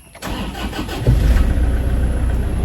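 A Toyota Innova's engine cold-starts with a sharp crank and catch, then settles into a loud, steady, rumbling idle close by, with no one talking.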